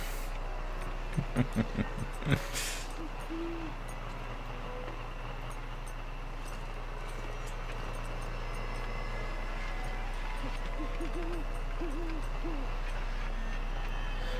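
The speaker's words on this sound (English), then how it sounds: "I can hear an owl." An owl hoots a few times in quick succession in the survival game The Long Dark, then calls again faintly later over a steady low wintry hum and wind.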